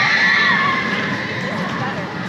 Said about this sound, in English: Love them screams.